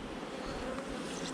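Honeybees buzzing around an open beehive frame, a dense, steady swarm hum held close and constant throughout, with no voices.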